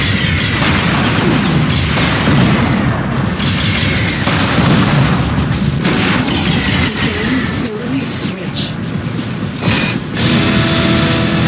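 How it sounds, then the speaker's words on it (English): Heavy weapon fire and explosions in the game Unreal Tournament III, in a jailbreak match, form a dense, continuous roar of booms and blasts with voices over it. "I'm taking heavy fire!"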